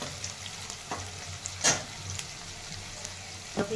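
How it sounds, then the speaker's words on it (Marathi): Ginger-garlic paste and onion sautéing in a pan for Nilanga rice, a soft steady sizzle with a few sharp scrapes of stirring, close and alone. "अद्रक लसूणची पेस्ट, कांदा हे छान परतून घ्यायचे"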